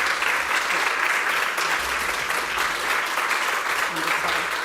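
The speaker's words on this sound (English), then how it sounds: "Please join me in a warm and enthusiastic round of applause to honor Professor" Conference audience applauding to honor Professor Sir John Hardy, a dense, sustained wash of clapping from a large crowd that holds steady throughout without breaks.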